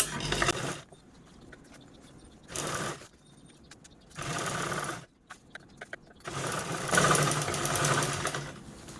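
A sewing machine stitches fabric from an old saree in several separate bursts, each a few seconds long, with quiet pauses between runs and a longer final burst.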